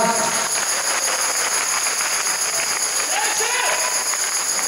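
Applause from an audience at a live music event for a street musician: a steady, dense wash of clapping that holds at an even level for the whole stretch, with no pauses.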